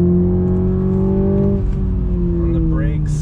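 A 2021 Toyota Supra 2.0 four-cylinder turbo engine revs loudly and steadily, its pitch holding then sliding down as it slows, with a brief higher whine near the end.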